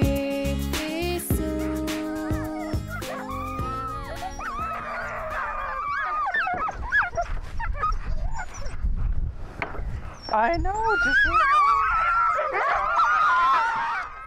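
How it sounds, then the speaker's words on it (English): Hungry sled dogs in the Arctic at Resolute Bay whimper, yip and howl in a long, wavering chorus, some calls close and loud and others further off, with a brief spoken phrase. "that is the sound of a hungry sled dog"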